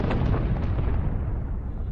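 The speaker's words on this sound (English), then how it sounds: "Can we hear a bomb now?" A bomb explosion sound effect: one loud, deep rumbling boom that hits at once and slowly decays into a low roar, heard alone without speech.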